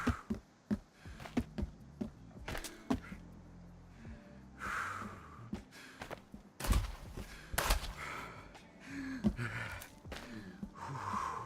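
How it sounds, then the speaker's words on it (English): A video game character breathes heavily and gaspingly from hunger and thirst, with repeated exhalations and snort-like breaths mixed with footsteps and clicks over about eleven seconds. "the reason my character's breathing like this is because I'm hungry and I'm thirsty"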